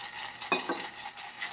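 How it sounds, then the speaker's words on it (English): Walnuts and chocolate chips are tossed together in a bowl, making a short burst of light rattling and clicking with a faint scrape, close and quiet, with no talking. "I'm going to grab my walnuts and my chocolate chips. Just going to mix those a little bit."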